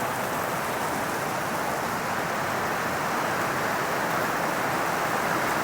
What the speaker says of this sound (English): It's still raining here in Queenstown